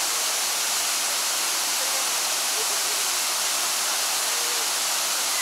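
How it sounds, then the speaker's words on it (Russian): Steady, close waterfall in Croatia, a dense unbroken roar of falling water that fills the whole clip with no voices over it. "Ну а для тех, кто любит водопады, давайте я просто оставлю вам это секунд на 10."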